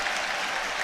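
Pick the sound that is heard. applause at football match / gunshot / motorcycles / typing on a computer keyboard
applause at football match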